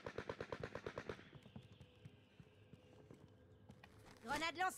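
Gunfire rattles in Call of Duty: Modern Warfare as a rapid burst of about a dozen shots, followed by quieter scattered sounds and a voice speaking near the end.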